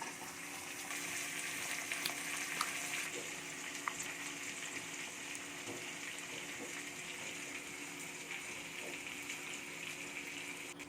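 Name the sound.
frying cut brinjal in oil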